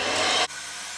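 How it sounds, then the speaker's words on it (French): A sugar and egg cake batter is whisked briskly by hand in a bowl, a dense steady scraping hiss that cuts off abruptly halfway, leaving a faint room tone. "je vais bien fouetter ce mélange"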